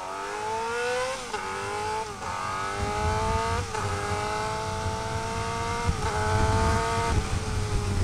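A car engine revs repeatedly while downshifting, its pitch dropping at each gear change and then climbing again. The revving is close, steady and continuous, with no voices over it.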